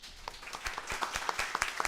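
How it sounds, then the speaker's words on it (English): A modest round of applause for a panel speaker at a talk on Rohingya and human trafficking, with individual claps popping out sharply and picking up in density toward the end. "we should give him a round of applause"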